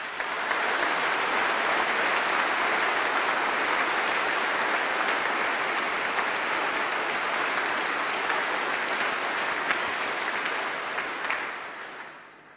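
A large graduation congregation audience applauds, dense and sustained clapping filling the hall at full strength for about twelve seconds before tapering off at the end.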